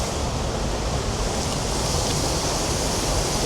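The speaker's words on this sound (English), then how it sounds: "We're checking out a waterfall just in front of us there to the right hand side." A mountain waterfall with cascades beside a road gives off a steady, dense rush of falling water, loud and unbroken with no talking.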